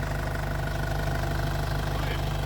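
A cold car engine runs steadily at a low, even throb, droning without a break and with no clear surge in pitch.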